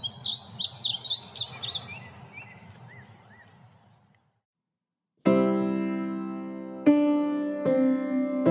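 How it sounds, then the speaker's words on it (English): Songbirds sing in a Texas state park, a rapid run of bright chirps and trills for several seconds before fading into quiet, then a sharp, louder tonal sound breaks in twice. "Up here at the recreational area, there's tons of songbirds and hawks flying overhead"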